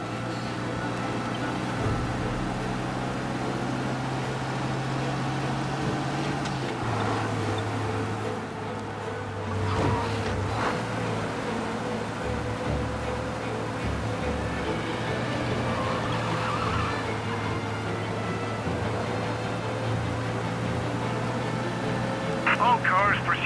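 Engine drone of a car racing at speed to escape a police pursuit in a Mafia video game, a steady roar with shifting tones running throughout, under talk.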